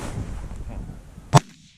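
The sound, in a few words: gunshot fired at a goose during a hunt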